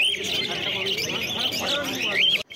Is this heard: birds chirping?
yes